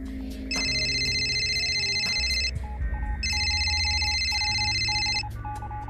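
A mobile phone rings loudly in two repeated bursts of an electronic ringtone, with a brief lower tone pattern between them, over a faint room background.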